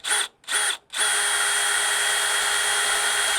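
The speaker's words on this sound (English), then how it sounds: "able to get the drill up underneath there while that camera is there. We'll see. Okay, so one hole right here." A power drill boring a hole up under the tongue of a 2022 Runaway Rangerunner trailer, loud and close, with two short bursts followed by one long steady run of drilling.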